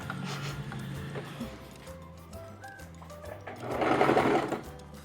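A sewing machine stitches a seam on a crop top with a zipper, running in short bursts of rapid mechanical whirring with pauses between, close by and moderately loud, with no voices.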